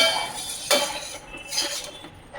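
A spoon stirs a rice mixture in a pot over low heat, making a few close metallic scrapes and clinks in quick succession with a soft grainy rustle between them.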